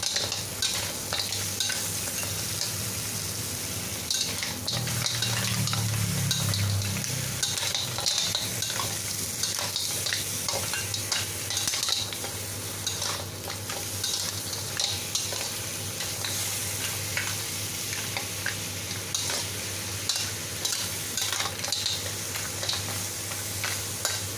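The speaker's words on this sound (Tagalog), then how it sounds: "Paghaluin natin maigi." Green shell mussels being stirred in a hot frying pan with garlic, a continuous close sizzle with steady scraping and clattering of shells and utensil throughout, no talking.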